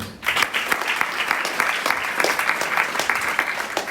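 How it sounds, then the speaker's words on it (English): An audience at a devotional Vyasa Puja gathering gives a full round of applause, many hands clapping together in a continuous, fairly loud wash that begins abruptly after a brief pause and holds steady throughout. "Give a round of applause"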